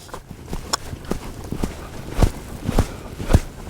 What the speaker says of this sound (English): So we'll sort of pick up a left lead on him and lope him around a little.